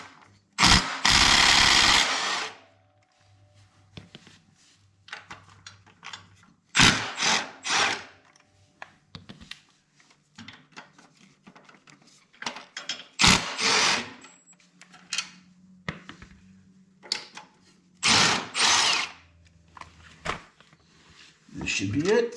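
Power drill working on the rear fender support bolts of an Indian Scout Bobber motorcycle, four loud bursts spaced several seconds apart, with someone talking quietly between them.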